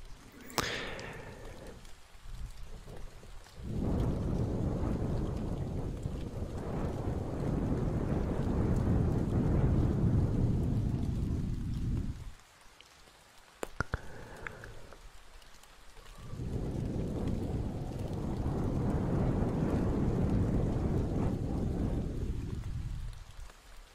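A close-up ASMR trigger imitates a thunderstorm over rain, rising into two long, loud rumbling swells separated by a quieter gap with a few soft taps. No one speaks.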